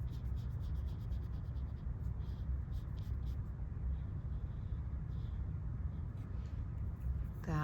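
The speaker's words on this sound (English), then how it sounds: "now I'm painting with wet paint onto my" Brush strokes of wet watercolor paint on dry paper, soft scratchy rubbing in short repeated passes over a low background rumble, fairly faint and close.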